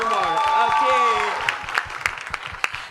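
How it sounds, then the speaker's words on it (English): An audience claps for a guest's introduction at a talk event, the applause rising under a speaking voice early on, then thinning into scattered, separate claps toward the end. "I'm not hearing the applause loud enough."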